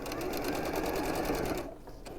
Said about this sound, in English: So pin it at both ends and then sew it together.